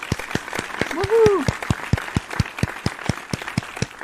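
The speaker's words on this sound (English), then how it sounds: "Some tiny hand claps" Small, light hand claps in a steady rhythm, roughly a dozen over four seconds, with a rising musical tone and faint voices in the background.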